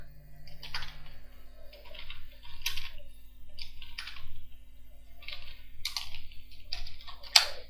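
Someone types on a computer keyboard while entering a heading in a Microsoft Excel spreadsheet, producing irregular clusters of crisp, quiet keystrokes with short pauses between bursts and no talking.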